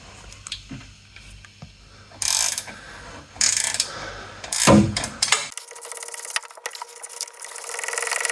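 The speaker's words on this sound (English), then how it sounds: "we need to come from on top with a 10mm ratchet" A 10mm ratchet working on the valve cover bolts of a Stiga Primo, with bursts of ratcheting and mechanical clatter, close and fairly loud, with the sound ending abruptly near the end.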